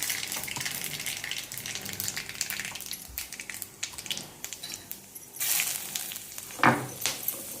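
Cumin and mustard seeds with turmeric crackling in hot oil in a pan on a gas stove, a dense hiss with spitting pops that swells louder toward the end.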